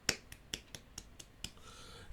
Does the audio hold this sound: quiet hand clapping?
yes